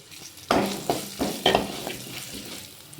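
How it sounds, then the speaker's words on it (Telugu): Mustard seeds, cumin, garlic, dried chillies and chana and urad dal sizzle in hot oil for a tempering, with crackling pops and a few stirring scrapes in a pan up close. "ఆవాలు, జీలకర్ర, ఎల్లిపాయలు, ఎండుమిరపకాయలు, శనగపప్పు, మినపప్పు అవి ఫ్రై అయ్యానండి."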